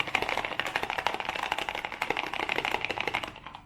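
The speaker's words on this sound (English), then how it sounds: "It's the whole reason for Vanos rattle right here." Fast, continuous metallic ticking and clattering from a running BMW E36 M52 engine with Vanos rattle, a dense rattling rhythm heard up close at low volume, no talking.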